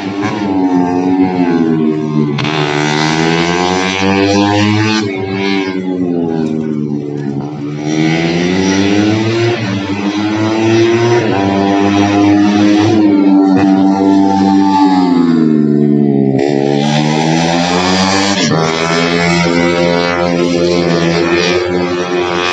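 Go-karts racing around the Sentul karting circuit, heard from above as a continuous loud engine whine rising and falling in pitch while karts pass in overlapping waves, with no talking.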